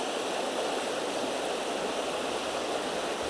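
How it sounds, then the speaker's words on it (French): Shallow, fast-flowing stream at a trout fishing spot, a steady broadband rush of water running unbroken and fairly close, with no voices over it. "même s'il y a beaucoup de courant, il n'y a pas beaucoup d'eau."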